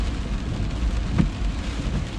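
Rain drums steadily on a car during a dark drive, a dense low wash of patter and road rumble with one brief louder thump partway through, no voices.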